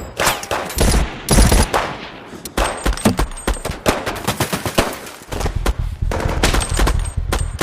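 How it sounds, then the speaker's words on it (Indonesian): Film shootout gunfire with dense, loud bursts of automatic fire and rapid single shots that crackle almost continuously, heard close with no talking. "Dalam baku tembak ini"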